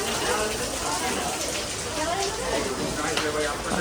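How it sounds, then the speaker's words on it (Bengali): Heavy downpour falling outdoors, a dense, steady rush of rain hiss at close range with no breaks throughout. "দেখো বৃষ্টি চলে আসছে"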